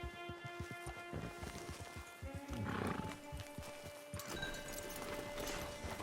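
A horse in the video game Red Dead Online clops along with rhythmic hoofbeats, then gives a loud neigh partway through before the hooves continue under ambient game sound.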